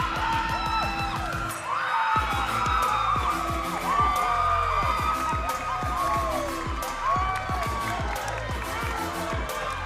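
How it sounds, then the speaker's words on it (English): Dense, loud arena crowd cheering, whooping and yelling at a women's college gymnastics meet, Maryland at Ohio State, sustained throughout a floor routine with bursts of shouts and a commentator talking over it. "they are cheering for her. It is loud in this arena"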